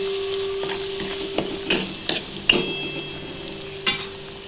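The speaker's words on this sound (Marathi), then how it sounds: "आता आपण ह्या तेलात सर्व घेतलेले मसाले टाकून घेऊयात" Spices sizzle in hot oil for a spicy prawn curry while a spoon scrapes and clinks against the pan in a few sharp, irregular knocks.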